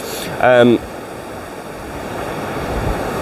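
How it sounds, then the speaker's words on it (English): Surf washing up a beach on the Welsh coast, a broad steady wash of waves rolling in with wind noise on the microphone; a short voice breaks in near the start. "I get a couple of big waves and they sort of come right up towards me"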